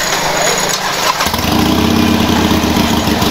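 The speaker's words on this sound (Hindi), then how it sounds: "बाइक को कोल्ड स्टार्ट तो मैंने अलग ही कर दी थी" A Harley-Davidson Iron 883 motorcycle fitted with a Vance exhaust cold-starts, cranking briefly and then catching into a loud, steady, throbbing idle that runs close by to the end.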